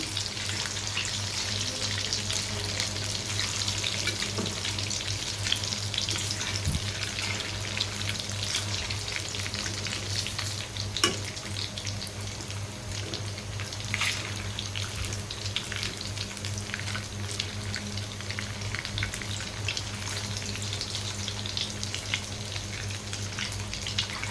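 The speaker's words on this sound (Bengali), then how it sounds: "এখন এগুলোকে আমি একটু খুব ভালো করে ভেজে নিচ্ছি" Noodle fritters deep frying in hot oil, a steady bubbling sizzle with crackly spatters running throughout, close and even with occasional soft taps as they are gently turned.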